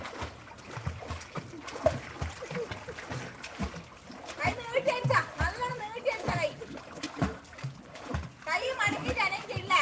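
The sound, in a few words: child kicking legs splashing in water while learning to swim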